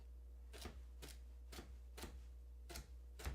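A kitchen knife chops through celery stalks on a cutting board, six crisp, evenly spaced cuts about half a second apart, close and fairly quiet over a steady low hum.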